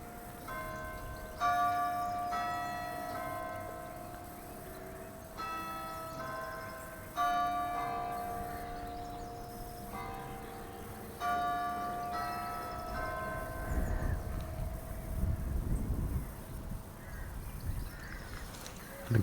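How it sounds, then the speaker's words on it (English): Church bells of St Mary the Virgin, Ixworth, a flint church in Suffolk, ring in repeated clanging peals outdoors across the churchyard, moderately distant, with crows cawing and a low rumble of nearby activity toward the end. "the bells are ringing"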